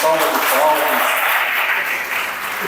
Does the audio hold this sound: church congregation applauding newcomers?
yes